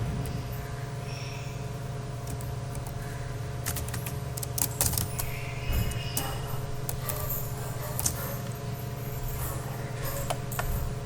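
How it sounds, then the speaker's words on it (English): Typing on a computer keyboard while filling in date, time and place in Photoshop, heard as a steady run of light clicky keystrokes over a constant low hum, close and moderately quiet, with a few sharper taps. "just type date, time and place"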